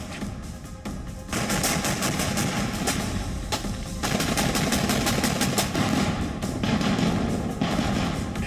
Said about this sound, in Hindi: मरियुपोल में भी एक रूसी टैंक तेजी से आगे बढ़ गया है और दनादन बारूद के गोले आग उगलते देखे जा सकते हैं